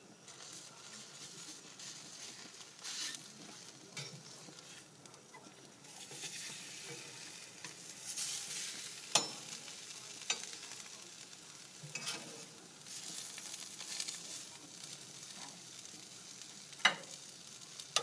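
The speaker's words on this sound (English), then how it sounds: "Give our onion a little bit of a toss. You just want this really warmed up." An onion is tossed and warmed in a pan, giving a quiet, soft sizzle with occasional light scrapes and taps of a utensil, faint and steady throughout.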